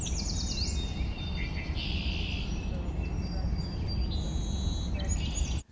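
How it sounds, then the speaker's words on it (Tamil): Several birds sing and chirp in bright overlapping calls and trills over a steady background hiss, moderately close and fairly clear. "பறவைகளுடைய ஒலிகள் கூட நம்மை உற்சாகத்தில் எழுப்புமா"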